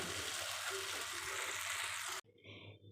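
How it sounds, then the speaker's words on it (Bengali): Food sizzles in a pan over a low flame, with salt and sugar added for slow frying. A steady, fairly soft hiss runs for about two seconds, then cuts off to a quieter bubbling sound. "একদম লো ফ্লেম দিয়েছি দিয়ে এটা কষাবো"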